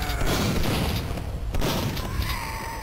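Booming explosions from the Nintendo 64 game Duke Nukem 64, a dense burst of thuds and blasts with a second loud crash about halfway through, fading into rumbling debris.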